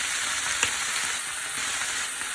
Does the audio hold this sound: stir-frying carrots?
yes